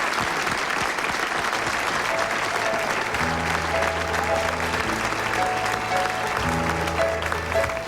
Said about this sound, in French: On va l'applaudir, et toi aussi, tu vas l'applaudir.